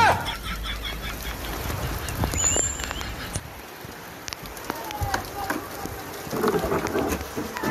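Heavy rain pours in a steady, dense hiss during a thunderstorm, with a few scattered knocks and brief sharper sounds over the downpour.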